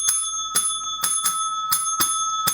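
A small bell, rung as a happiness bell, gives about eight bright, quick metallic dings in a lively irregular rhythm, close and clear with no talking.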